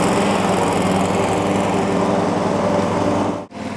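A riding lawn mower engine runs steadily and loud throughout, a constant mechanical drone with dense vibration, briefly dipping near the end before carrying on; no one speaks over it.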